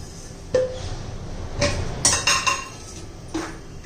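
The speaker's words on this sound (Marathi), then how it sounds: "कढई गरम करण्यासाठी ठेवलेली आहे" A kadhai (wok) set on the stove to heat gives several sharp metallic clinks and clanks, spaced irregularly over a few seconds in a quiet kitchen.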